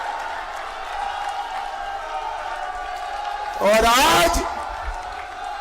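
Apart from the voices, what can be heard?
crowd clapping at political rally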